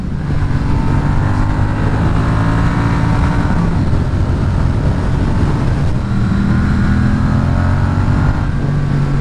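Triumph Street Twin motorcycle with stock exhaust, loud continuous engine drone and rumble while riding, pitch rising and settling through low revs, no voices.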